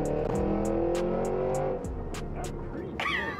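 2024 Cadillac Escalade V SUV launching hard, its engine roaring up through rising revs with quick shifts, loud and close, then easing off near the end.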